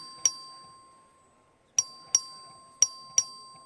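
A voting bell in the Texas House chamber rings in five sharp, clear dings, one alone, then a quick pair and another pair, each ring decaying quickly in an otherwise quiet room.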